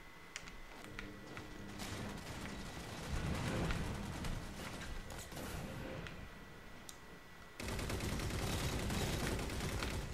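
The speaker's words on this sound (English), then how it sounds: "sniper rifle." Gunfire from a sniper rifle and other weapons in a Halo 4 capture-the-flag match: dense, busy bursts of shots and game effects that get louder around a third of the way in and again near the end, with no talk.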